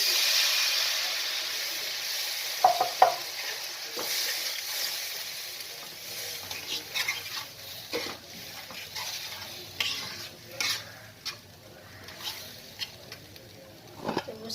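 Masala is sautéed in a pan for a bhetki fish curry, with a continuous hissing sizzle and repeated spoon scrapes and taps that grow more frequent toward the end, close and alone.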